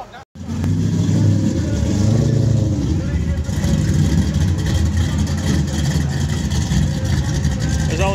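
Turbocharged Mercedes drag car accelerating hard at Piedmont Dragway in a hard-tire street car race, a loud, sustained low engine roar that holds steady for several seconds after a brief dip at the start.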